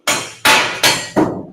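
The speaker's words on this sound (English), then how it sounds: "I need a hammer." A hammer strikes metal at a metal fabrication demonstration, four loud, sharp blows in a quick, slightly uneven rhythm, each ringing briefly before the next, with no talking.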